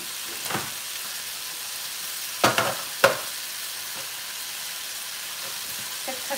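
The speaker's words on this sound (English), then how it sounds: "Just cook some peppers" Peppers cook in a pan while cooking tacos de alambre, a faint, even sizzle running throughout, broken by a few sharp clatters of a utensil partway through.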